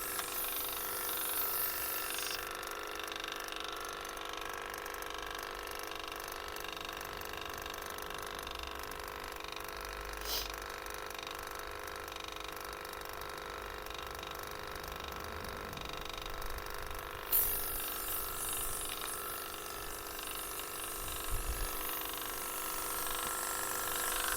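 Homemade air compressor built from an old refrigerator motor, running steadily with a continuous mechanical hum and faint rattle throughout, fairly loud and close, with no talking.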